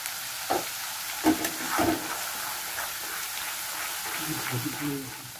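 Cashew, ginger and chili paste sautéing in a pan, a soft sizzle broken by a few scraping stirs and knocks of a spoon, close by and fairly quiet.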